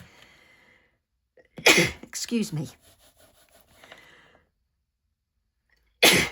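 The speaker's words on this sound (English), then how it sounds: "I'm going to sneeze." A single sharp sneeze bursts out up close, followed by a brief spoken apology, then another loud sneeze-like burst at the end.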